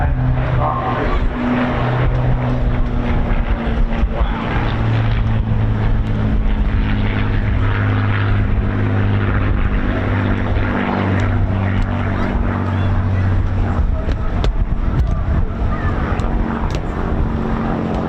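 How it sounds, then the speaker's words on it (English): Rolls-Royce Heritage Flight Spitfires, a Mk 9 and a Mk 19, fly past at a seaside air festival. A loud, continuous piston-engine drone holds steady throughout, with crowd and background noise mixed in. "Ladies and gentlemen, the Rolls-Royce Heritage Flight, Mark 9 Spitfire and Mark 19"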